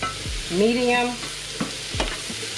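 Greens cooking in a pot on a stovetop over medium heat give a brief burst of sizzling and stirring with a few soft knocks and scrapes; no one speaks.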